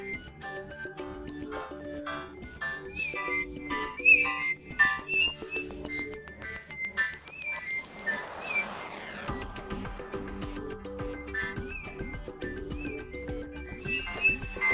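Music with whistle-like melodic notes plays through the bottom speaker of a OnePlus 5T phone, somewhat thin and steady, with a brief swelling noisy passage midway.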